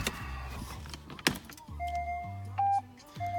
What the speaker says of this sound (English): can hear the rear sensors coming to life there